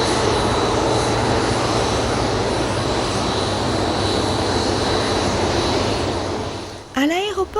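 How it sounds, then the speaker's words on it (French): Airliner from Johannesburg carrying radiopharmaceutical cargo landing at Heathrow Airport in London, a loud sustained engine roar that fades toward the end, followed by a brief voice. "l'avion transportant les produits radiopharmaceutiques en provenance de Johannesburg vient d'atterrir"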